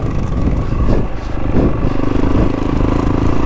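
A 2025 Honda CRF450WE dirt bike engine revs out and keeps pulling on slippery ground, a steady, loud, rough rumble with brief swells in pitch and no voices.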